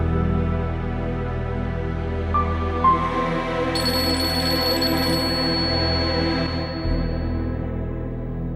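A phone ringtone plays in a quiet room, with electronic tones starting and then brighter, higher chimes joining. It rings steadily at moderate volume for several seconds with no one speaking.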